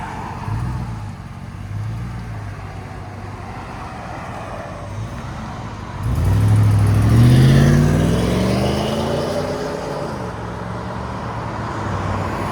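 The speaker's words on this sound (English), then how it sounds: "Let's see how the Gibson exhaust sounds going down the road." A 2003-2009 Toyota 4Runner 4.7L V8 with a Gibson cat-back exhaust swells as it accelerates past, a throaty exhaust rumble rising then settling into a steady cruise over road noise.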